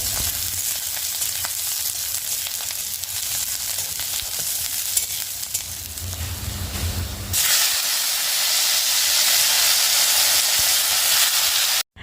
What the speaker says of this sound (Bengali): তো এই তো সব কিছু ফোড়ন দিয়ে চাল কুমড়োটা ধুয়ে দিয়ে দিলাম